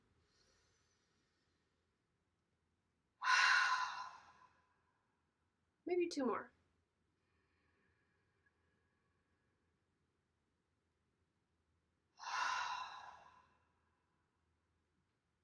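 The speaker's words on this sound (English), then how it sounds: "one of my favorite practices, is audible breathing, so something that makes a little bit of a sound" Audible breathing exercise, inhaling and exhaling through the mouth: three breath sounds close to the mic, two long airy rushes and a short sharper one between them, with quiet pauses. A few soft words are spoken.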